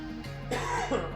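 A single cough with a throaty rasp, close to the microphone over a steady low hum.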